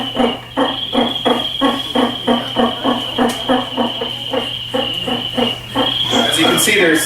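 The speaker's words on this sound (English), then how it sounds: "let's just add the quack or the chuckle of a wood frog" Wood frog calls, a run of short chuckling quacks repeating at a steady rhythm of about two per second, fairly close and loud over a constant high insect-like drone and a low hum.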